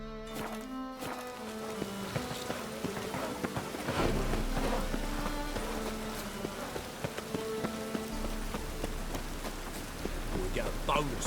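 Steady rain patters across surfaces with a continuous hiss, layered over game music and ambient tones, with someone talking now and then, in the video game The Witcher 3.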